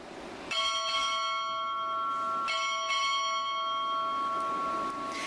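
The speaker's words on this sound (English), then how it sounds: "Time orderly, strike 4 bells." A ship's bell is struck at a Naval ROTC boot camp graduation ceremony, giving clear ringing strikes in pairs with long sustained tones that decay between them, heard alone without talk.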